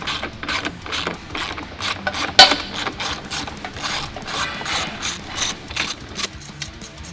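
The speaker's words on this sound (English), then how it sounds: "It's a 10mm socket." A 10mm socket ratchet loosening bolts on a Can-Am Maverick R side-by-side during a suspension cage install, a rapid run of close, loud clicking pawl strokes in uneven bursts, with no one talking.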